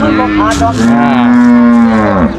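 A cow moos loudly and close at a Thai cattle and buffalo market, one long drawn-out call that rises and then falls away.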